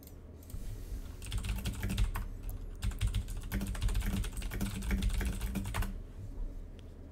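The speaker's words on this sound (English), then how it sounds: "Apologies for the loud typing on the keyboard." Rapid clattering keystrokes on a computer keyboard, a busy stream of clicks for several seconds before stopping, close by.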